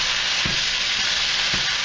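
Store-made ground meat frying in a grill oven, a loud, steady sizzle that fills the scene, with a few soft stirring scrapes and no voices.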